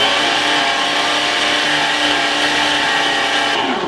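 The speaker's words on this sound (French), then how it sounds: "À ce stade-là, la machine, on la place, le bol dessous et la viande on hache." An electric meat grinder mincing meat together with onions runs steadily as a loud, continuous motor whine with grinding texture, with no speech, and the sound drops away near the end.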